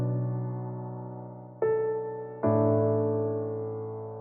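Sampled piano layer, sustained chords ringing out with a new chord struck around the middle and another shortly after, each decaying slowly, clean and alone with no voices.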